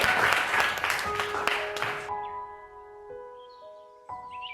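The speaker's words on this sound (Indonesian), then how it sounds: "Tepuk tangan untuk semuanya." Brief classroom applause from a group of students, dense clapping for about two seconds that stops abruptly, followed by quiet sustained musical tones.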